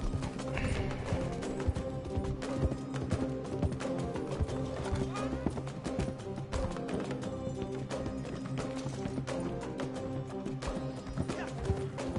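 A horse gallops in a video game with a rapid, steady clip-clop of hooves that runs continuously for over ten seconds. The hoofbeats are fairly close and fill the clip.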